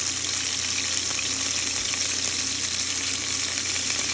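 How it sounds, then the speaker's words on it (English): Beef browning in a pot for stew gives a dense, steady sizzle of hot fat, loud and close, holding an unbroken frying hiss throughout with no voices. "Once we browned all the meat, we're going to move to the next step."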